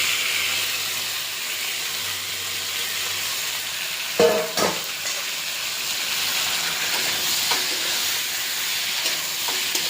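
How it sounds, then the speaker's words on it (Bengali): Five-spice tempering sizzles and crackles steadily in a hot pan, with a couple of sharp stirring clanks partway through. "একটু ভালো করে ভাজা, মশলাটা যাতে ভিতরে ঢুকে"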